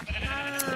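A sheep in Minecraft Sky Factory lets out a single short, nasal bleat with a wavering harmonic tone, close and clear.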